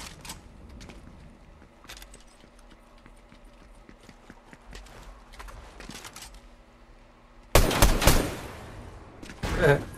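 Rapid video-game gunfire shooting crates out of the sky, with sparse clicking shots early on and a loud dense burst near the end, while voices talk faintly underneath.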